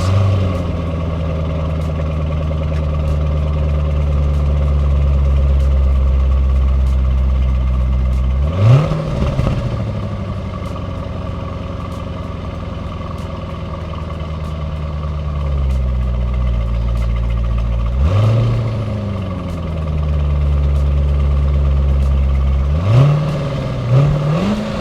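A 2003 Chevrolet Corvette with a V8 and automatic transmission drives with a steady loud engine drone, rising in three distinct revving surges as it accelerates and shifts.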